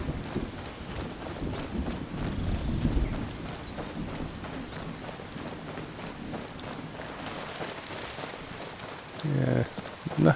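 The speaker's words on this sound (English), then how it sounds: "Fair old thunderstorm going on then." In Skyrim, a thunderstorm rumbles under steady rain pattering on surfaces, with a low roll of thunder swelling near the start and a louder burst near the end.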